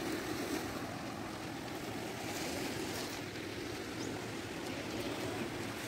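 Sea surf washes steadily at a river mouth on a beach at Katubig, a continuous, faint, broad roar of waves with some wind noise and no talking.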